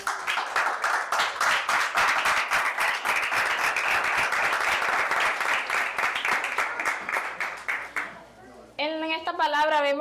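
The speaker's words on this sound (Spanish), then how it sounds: "Vamos a brindar un aplauso al Señor." A congregation at a Spanish-language church service claps loudly and steadily for several seconds, then the clapping fades and a voice begins speaking.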